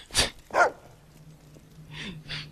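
A dog in the video game Fable II barks twice in quick succession, then gives two softer, breathy yaps, with a low steady hum running underneath.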